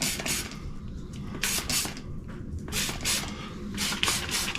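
Soapy water is sprayed from a spray bottle onto window glass before fitting privacy film: a series of short, close hissing bursts, fairly quiet, with brief gaps between squeezes.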